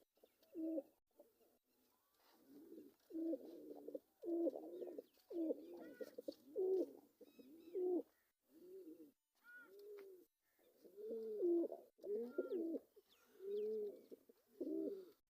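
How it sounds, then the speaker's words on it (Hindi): Pigeons coo repeatedly in soft, throaty, rolling bursts with short pauses, close by and steady throughout, with no talking. "देखिए माशाल्लाह कितना खूबसूरत कबूतर है"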